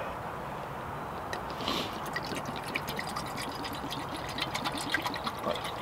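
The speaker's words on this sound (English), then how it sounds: "Pour more water in the pot." Water pours into a small camping cooking pot outdoors, a soft, continuous trickle and splash with faint drips, heard close and fairly quiet for several seconds, without any talking.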